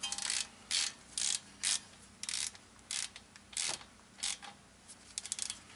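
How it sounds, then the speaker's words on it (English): Hand ratchet tightening a front brake caliper bolt on a Lexus ES 350, a string of about ten quick clicking bursts with short pauses between, close and fairly quiet, no talking. "So now I'm gonna use my ratchet to tighten it."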